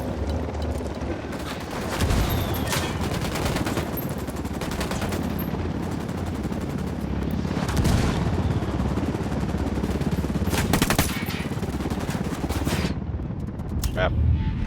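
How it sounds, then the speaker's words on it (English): Mortar blasts and dense automatic gunfire fill a Ghost Recon Breakpoint battle, a loud and continuous barrage with heavy booming bursts throughout. "Oh shit, mortars."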